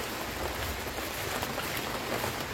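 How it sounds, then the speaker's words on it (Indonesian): Light rain falls steadily outdoors on a kangkung (water spinach) planting plot, a soft, even wash of drops with no talk over it. "Gak apa-apa, hujan sedikit aja Pak."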